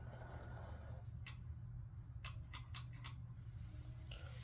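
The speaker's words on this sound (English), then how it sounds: "Just playing with the clicking noise." Metal-wheeled toy train set parts clicking, a single sharp click followed after a pause by a quick burst of four close clicks and a faint final tick, over a steady low hum.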